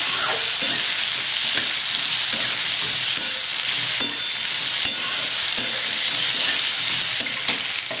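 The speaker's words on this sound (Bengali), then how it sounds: "এবার দেবো এখানে একটু আদা বাটা, দেখুন আদা বাটা, লঙ্কা বাটা, আদা লঙ্কাটা দিয়ে একটু নেড়ে নেব।" Ginger and chili paste fry in a pan with a constant close sizzle, broken by regular scraping stirs that recur about every half second to second.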